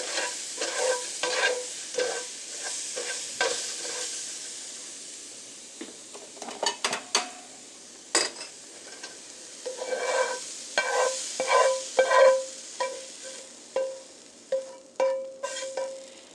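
Mushrooms frying in a pan, stirred with a utensil that scrapes and taps against the pan in uneven bursts over a steady, soft sizzle, close and with no talking.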